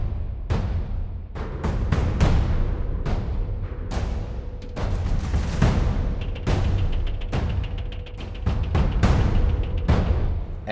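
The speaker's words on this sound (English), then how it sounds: "we have it played with this big percussion section." A big percussion section pounds out a trailer theme, with heavy drum hits and booming low impacts in a driving, irregular rhythm, crashing accents layered over a dense rumbling wash, loud and full throughout.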